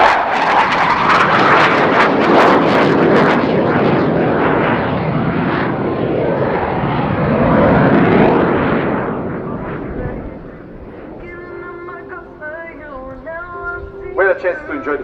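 Jet aircraft engine roaring loud and close during an air show display at RIAT 2019, with a sustained broad roar for about ten seconds before fading, while a commentator talks over it.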